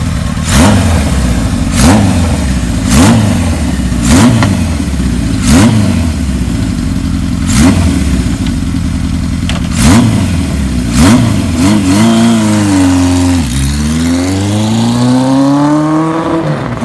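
A 1978 Kawasaki KZ1000 LTD motorcycle engine idles with a steady, lumpy rhythm, then revs up sharply and climbs in pitch before settling back, loud and close.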